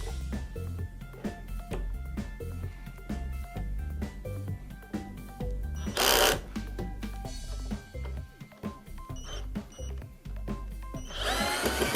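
A power drill whirs in repeated short bursts removing old screws, with screws rattling and tools clattering nearby; a louder whine rises midway and again at the end.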